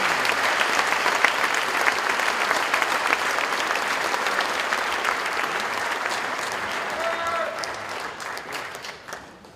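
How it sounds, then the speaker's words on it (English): A crowd at a celebration-of-life gathering applauds with dense, sustained clapping that holds strong for several seconds before tapering off at the end. "let's give all of ourselves a round of applause"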